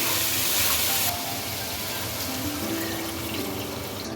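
Water poured into a pan of frying dal with pure asafoetida (hing) and ground fenugreek gives a steady, close rushing splash and sizzle that eases slightly after the first second, no voices.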